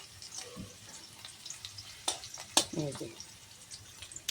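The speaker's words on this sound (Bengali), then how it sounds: "এবার আমি পেঁয়াজটাকে ভেজে নিচ্ছি" Onions fry in oil for a masala chicken dish, with a low, steady sizzle under occasional stirring scrapes and clinks, while someone talks quietly nearby.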